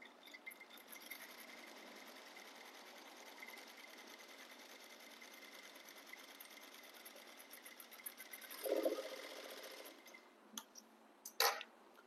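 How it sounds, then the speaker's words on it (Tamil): A sewing machine runs continuously at a quiet, even pace, stitching two pieces of cloth together for a flat fell seam on a panel skirt, with a couple of louder knocks near the end. "இப்போ வந்து நான் இந்த இடத்துல ஸ்டிச் போட போறேன்."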